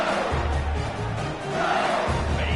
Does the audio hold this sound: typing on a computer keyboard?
no